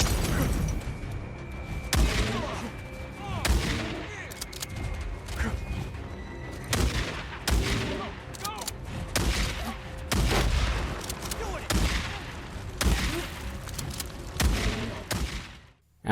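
Loud Days Gone gunfire hammers away in repeated heavy shots and short bursts with booming impacts, roughly every second or two, alongside horse neighs and clip-clopping hooves and chaotic game action.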